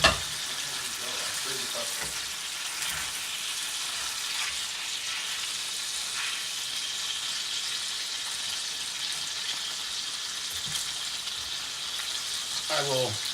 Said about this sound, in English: let it simmer about 10-15 minutes